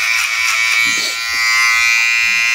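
An electric hair clipper cuts hair with a loud, steady, close-up buzz that dips briefly in the middle as it moves through the hair.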